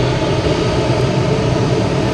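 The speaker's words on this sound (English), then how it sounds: "here's the JetBlue heading to London Heathrow" A JetBlue airliner bound for London Heathrow at Boston Logan Airport gives off a loud, steady, broadband engine roar with no break and no talk.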